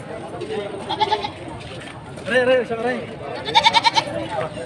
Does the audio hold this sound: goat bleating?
yes